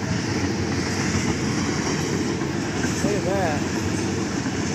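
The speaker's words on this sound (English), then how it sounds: "Bnsf freight train, Bnsf" BNSF freight train number 6845 rolling through a grade crossing in Altamont, Illinois, a steady broad rumble of wagons with clickety-clack and faint wheel squeal, close and continuous, with a brief spoken remark over it.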